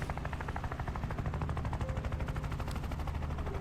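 Rapid automatic gunfire from a turn-based tactics video game, a dense, steady rattle of shots running loud and continuous throughout with no talking.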